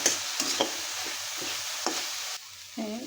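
Soybean snack frying in a pan with spices: a steady broadband sizzle punctuated by several sharp scrape-and-stir clicks, easing off near the end as a low clatter takes over.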